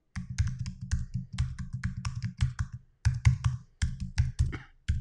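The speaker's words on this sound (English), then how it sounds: "And I'm typing that down here below." Computer keyboard keys typed in quick bursts of close, crisp taps with brief pauses between runs, nearby and moderately loud with no talking.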